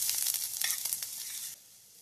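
Grated ginger and panch phoron frying in a little oil, a steady crackling sizzle with sharp spits, fairly close, easing off near the end.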